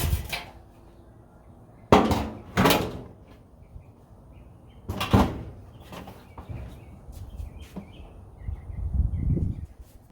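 Several sharp clunks and metallic knocks as a Samsung dryer door's bottom slots are fitted onto notches, separated by quiet pauses, close up.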